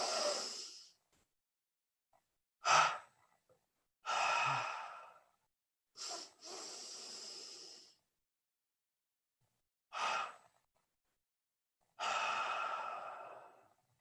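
A person in a guided meditation breathes in and out vigorously, about six or seven loud, breathy inhales and exhales with quiet pauses between them, close and with no talking.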